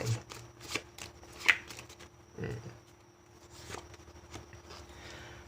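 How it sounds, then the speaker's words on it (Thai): Close, quiet riffling and flicking as tarot cards are shuffled and two Major Arcana cards are drawn, with soft card slaps and snaps spread through the moment and no voices. "มา อย่ามาเริ่มอ่านไพ่กันก่อน ขอไพ่เมเจอร์อาคาน่าหน่อยสองใบ"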